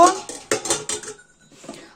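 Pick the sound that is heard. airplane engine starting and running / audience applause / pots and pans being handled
pots and pans being handled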